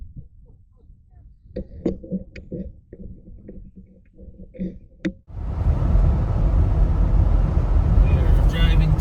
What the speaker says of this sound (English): We're driving through the Fremont-Wenema National Forest